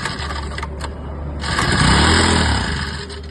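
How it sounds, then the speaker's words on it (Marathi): A long-unused petrol engine, with petrol squirted straight into its carburettor, fires on a single kick after a few brief clatters. It swells into a loud, close running roar that gradually eases off. "अशा प्रकारे एक किक मध्ये पंप स्टार्ट होऊन जाईल."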